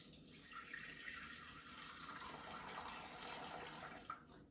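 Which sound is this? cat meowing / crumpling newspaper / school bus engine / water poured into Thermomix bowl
water poured into Thermomix bowl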